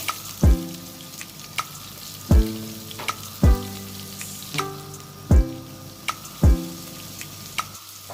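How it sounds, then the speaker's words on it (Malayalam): Vegetables and cauliflower sauté in a hot kadai with a steady close sizzle, punctuated by six regular loud clanks of a spoon striking the pan. "ഇതുപോലെ നമ്മൾ എല്ലാ വെജിറ്റബിളും ഇങ്ങനെ സോട്ട് ചെയ്തെടുക്കണം. ഇനി 1 കപ്പ് കോളിഫ്ലവർ ആഡ് ചെയ്ത് കൊടുക്കാം."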